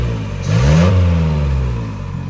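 Nissan D21 engine with freshly advanced ignition timing revs up sharply, then settles back to a steady, throaty idle, loud and close with no voices.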